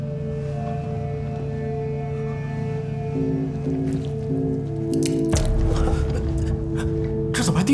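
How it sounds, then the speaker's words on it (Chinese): Water drips inside a Mars base in a sci-fi monster film scene, small wet drops falling over a steady low mechanical hum that swells into a louder rumbling wash near the end. "这怎么还滴水啊？"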